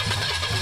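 An abandoned Pontiac 400 V8 cranks, giving a brief, close, loud burst of rough rhythmic starter and engine churning that lasts under a second.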